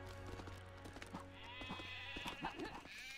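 Repeated sheep bleats from a blocky sheep in the Lego Worlds game, several short calls over a low steady game hum with no talk.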